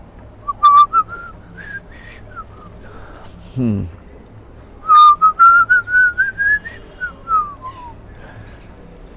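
Whistled imitation of koel (kokila) song, rising melodic phrases repeated in two bursts with a short gasp-like break between, close and fairly loud, with a brief spoken word in between.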